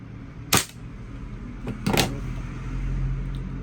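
Gas blowback airsoft rifle, a WE 888 416, fired in a few sharp cracks: one near, loud shot, then a faint click and a quick double shot, over a low background hum.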